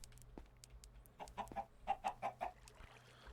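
Chickens at a Minecraft chicken spawner in the All The Mods 9 modpack, a run of about eight soft, evenly spaced clucks with faint clicks and low background noise, and no voices.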